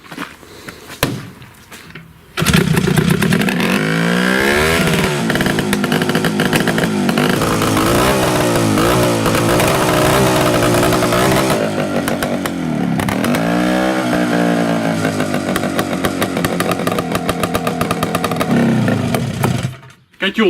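A loud homemade dune buggy engine with a misfiring cylinder runs roughly with uneven, sputtering revs for a long stretch, then cuts out abruptly near the end.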